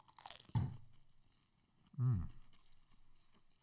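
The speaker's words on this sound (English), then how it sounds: "That crunch was nice." Crunchy chewing of a snack at close range, two loud crunching bites with softer mouth sounds between them, no talking.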